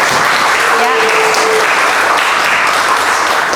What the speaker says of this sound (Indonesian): Mari kita kasih aplaus untuk Tabas.